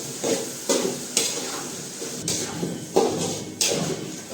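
Mixed vegetables stirred in hot oil in a pan for a Gujarati vegetable gravy, a spoon scraping and tossing them in about eight rhythmic strokes over a soft sizzle, close, with no talking.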